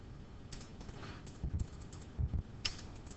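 Keys clack on a computer keyboard in a short burst of typing, a few close, crisp taps with small pauses between them and no voices.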